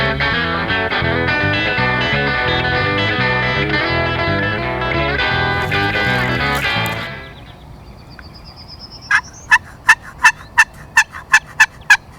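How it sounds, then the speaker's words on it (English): A wild turkey gobbler gobbles in a fast burst of about eight sharp, loud calls toward the end, following a stretch of dense background music. "he's one heck of a gobbler"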